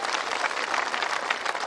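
An audience at a constitution rally in Kushinagar, Uttar Pradesh, claps steadily. The applause is dense and continuous, heard from some distance with no voices over it.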